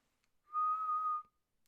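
Someone whistles a single steady note, clean and close, held for under a second against near silence.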